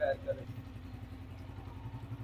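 A new 125 cc motorcycle engine starts and putters with a steady low pulse, quiet and close, with a short voice-like sound at the start.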